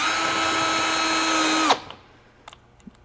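A power drill drives screws into plastic door trim on a 1999-2004 Land Rover Discovery II, whining loud and steady up close for under two seconds before cutting off abruptly, followed by a few faint clicks.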